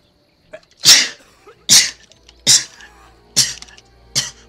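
Five loud, sharp sneezes in a row, each preceded by a brief intake of breath, spaced roughly evenly and close up against near silence.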